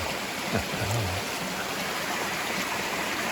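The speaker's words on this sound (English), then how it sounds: "we have made a stop for lunch along this nice babbling brook" A babbling brook flows steadily at a lunch stop along a hiking trail, a continuous close wash of rushing water with no talk, a brief low rumble breaking in near the start.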